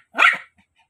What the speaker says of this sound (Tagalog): Ang mga aso yan.